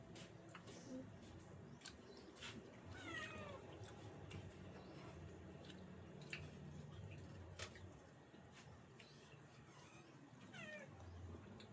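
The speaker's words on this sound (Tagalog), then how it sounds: "Ang dami ko ng pusa dito, oh." Several cats at a home in the Philippines give faint, scattered meows from some distance over a steady outdoor ambience with occasional bird calls.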